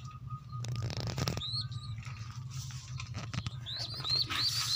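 Pigeons in a morning setting give short, rising chirpy calls and a burst of fluttering patter, close by, over a steady low hum.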